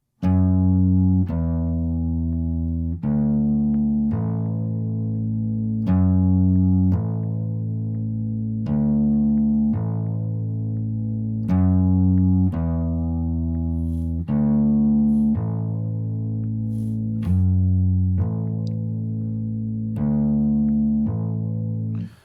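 A bass guitar plays a continuous, steady line of notes with no gaps, each tone running straight into the next.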